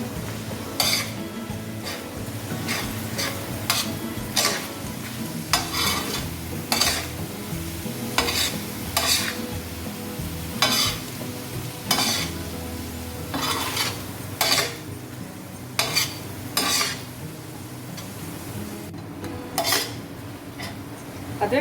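Crushed ginger and garlic sizzling in oil in a pan while a metal spoon scrapes and clinks against it in a steady rhythm, close and continuous, with no voices.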